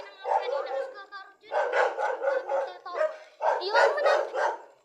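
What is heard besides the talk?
dogs barking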